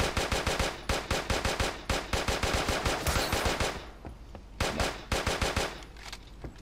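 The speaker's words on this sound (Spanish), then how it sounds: "¡Eh! ¡Es loco que me disparan, tío!" Rapid automatic gunfire in the video game Creative Destruction, loud close bursts of evenly spaced shots in long strings with brief pauses between, the last bursts slightly quieter.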